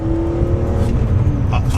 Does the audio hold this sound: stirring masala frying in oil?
no